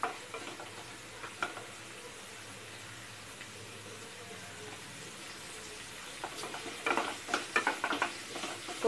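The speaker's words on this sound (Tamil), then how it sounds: "நல்லா வதங்கிட்டு இருக்கு" Chicken fried rice ingredients softening in a pan, a low continuous sizzle that stays faint, then a cluster of sharper scraping and stirring clatter near the end.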